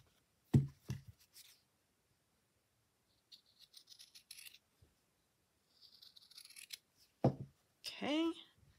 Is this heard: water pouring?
no